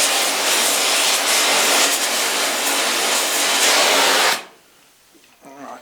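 A loud, steady roaring hiss from a gas torch heating steel during a trawler hull repair, holding for about four seconds before cutting off into quiet, with faint handling sounds after.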